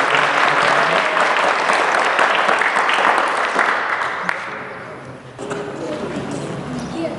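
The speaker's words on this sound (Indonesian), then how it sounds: "Oke, kita berikan tepuk tangan." Applause from a school audience at a boarding school orientation assembly, dense steady clapping that fills the room and thins out slightly toward the end.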